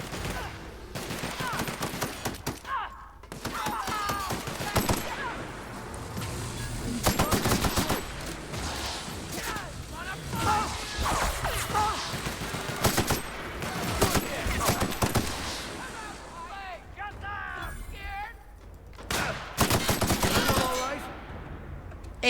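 Gunfire in the sci-fi shooter game The Outer Worlds, with rapid repeated bursts and single shots throughout, voices shouting between them during a firefight.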